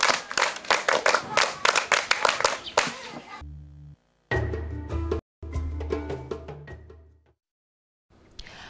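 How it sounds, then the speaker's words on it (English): Schoolchildren in a primary school classroom clap for a classmate, a burst of rhythmic group clapping lasting about three seconds before it stops and other sounds with voices follow. "Clap for her."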